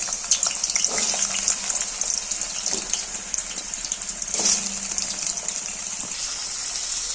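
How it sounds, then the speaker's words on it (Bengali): Potatoes fry in hot oil in a pan with a loud, continuous hiss and sizzle, plus a couple of brief clinks as they are moved around. "গরম তেলের মধ্যে আলুগুলোকে ভেজে নেওয়া হবে।"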